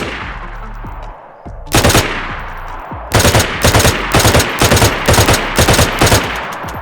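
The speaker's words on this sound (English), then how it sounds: "The burst fire mode fires 3 rounds if you hold down the fire button." M16 rifle firing in the DayZ video game: one short burst, then a run of rapid three-round bursts, loud, sharp and close, with no talking.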